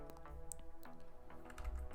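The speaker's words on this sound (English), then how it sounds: "Or maybe I was typing something" Keys clatter on a computer keyboard during indie game development work, a quiet irregular run of soft taps and clicks spread across two seconds at close range.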